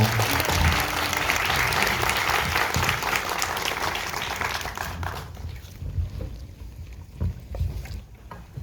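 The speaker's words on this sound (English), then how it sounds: "one more round of applause for Takumi Saito" A film festival audience in Hawaii gives a dense, sustained round of applause for actor Takumi Saito after a Q&A, fading after about five seconds to a few scattered claps and voices.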